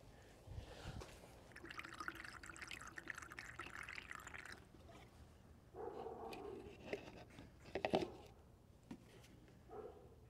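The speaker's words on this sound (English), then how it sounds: "that spill, guys, was the radiator overfilling." Coolant spilling and splashing from an overfilled radiator on a 1981 Corvette, irregular liquid pouring and dripping bursts, fairly close, with faint background noises.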